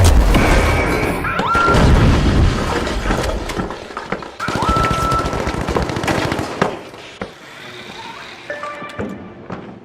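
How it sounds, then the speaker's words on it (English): A gas grenade is fired in the video game The Finals, among loud bursts, crashes and explosive booms in a busy, chaotic combat soundscape that fades toward the end. "Shooting gas grenade."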